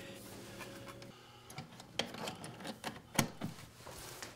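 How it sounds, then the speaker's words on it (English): A plastic outlet cover plate is removed and a Snap Power USB plate slipped on, giving soft scraping, rubbing and a few sharp clicks up close, quiet and without talk. "I just remove the existing cover plate, slip on the Snap Power unit"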